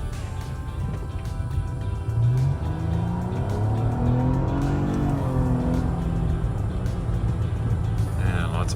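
Nissan Maxima V6 engine running under load while the sedan drives through corners, a steady low drone with rising and falling harmonic tones as it revs, with someone talking over it.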